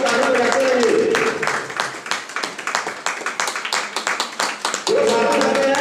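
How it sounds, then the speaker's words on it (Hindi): Clapping from a gathered crowd at a meeting runs as a dense, steady patter, with a voice speaking over it at the start and again near the end. "साथियों ताली बजाते रहिए, साथियों ताली बजाते रहिए"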